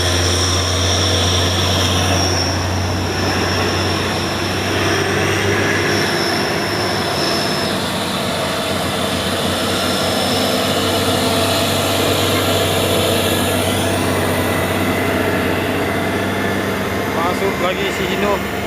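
Hino truck engine labouring up a hill, a loud steady low drone with a constant hum throughout, while people talk.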